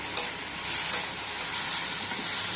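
Garlic and onions fry in a pan for tomato dal, making a steady, close hissing sizzle with faint stirring scrapes and no talking.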